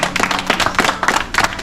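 A small group of people claps in quick, uneven bursts outdoors, close and fairly loud, with a few claps landing out of step.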